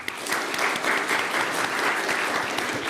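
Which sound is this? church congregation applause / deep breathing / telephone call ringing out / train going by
church congregation applause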